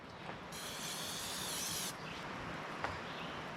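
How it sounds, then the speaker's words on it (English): Cooking spray hisses into a pot in one steady burst of about one and a half seconds, close and fairly quiet, followed by faint handling noise. "cooking spray,"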